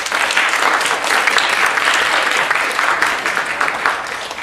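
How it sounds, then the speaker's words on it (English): A lecture hall audience at a physics class applauds loudly and steadily for several seconds, dense clapping that holds then tapers slightly. "give a big round of applause"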